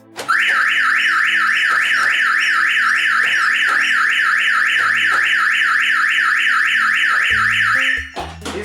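Starline car alarm siren sounding a loud, continuous warbling tone for about eight seconds as the system is disarmed, then cutting off abruptly into a few short chirps.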